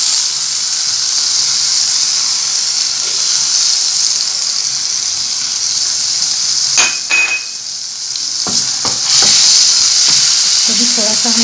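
Red chili paste frying in a pan with sautéed garlic for masoor dal, a loud, steady close sizzle and hiss throughout, with a few spoon clinks and scraping sounds near the end.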